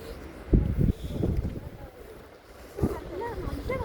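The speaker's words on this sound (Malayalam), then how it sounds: "അതിനോട് ഈ കാറ്റും അടിക്കുമ്പോൾ ഞങ്ങൾക്ക് സംസാരിക്കാൻ പറ്റുന്നില്ല." Strong wind blows across the misty Kolukkumalai mountain top on the Kerala–Tamil Nadu border. Low gusty rumble buffets the microphone, rising and falling under people's voices.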